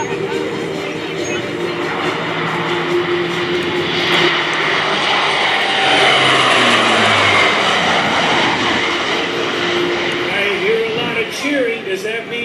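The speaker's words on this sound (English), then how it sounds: "It's the AC-130J Ghostrider." A four-engine AC-130J Ghostrider gunship makes a loud, sustained turboprop flyby at an airshow, its drone swelling and shifting pitch as it passes, with an announcer talking over it throughout.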